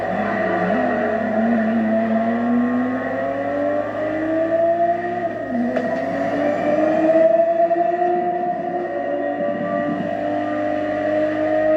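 A Ferrari GTB4 from the 1970s driven in The Crew Motorfest racing game, its engine droning steadily at high revs for the whole stretch, loud and close with gradual pitch rises through the gears and no talking.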